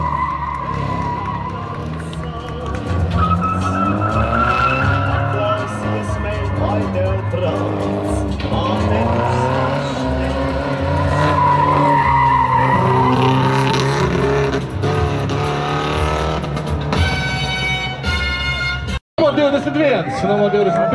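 A race car brakes and skids during a motorsport event, with loud engine noise and tire squeal lasting many seconds and cutting off abruptly near the end. A commentator talks throughout.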